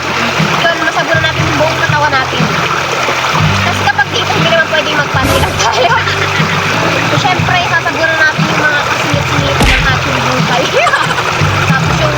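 Water splashing steadily, close by, as people bathe in a cold river, with people talking over it throughout.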